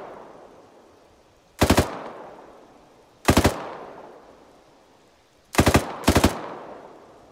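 Short automatic gunfire bursts in the Arma 3 video game, four sharp volleys spaced over several seconds, loud and close, with the last two fired in quick succession and no talk.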